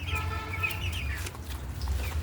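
A farm chicken with sore, swollen legs from being tied clucks in a series of close, fairly loud calls over a low steady background hum.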